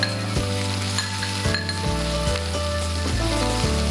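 Onions and green chili sizzle in a pan, a dense bright frying hiss heard alongside a steady musical background with clear changing notes.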